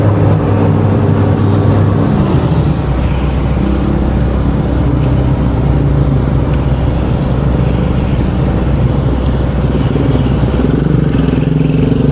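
A motorcycle rides past along a grassy riverside path by Kali Cilutung, its engine a steady close drone with a slight surge in the middle, loud and continuous throughout.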